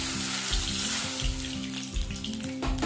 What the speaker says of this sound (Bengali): এই ঘিয়ের মধ্যে দিয়ে দেবো এবারে জল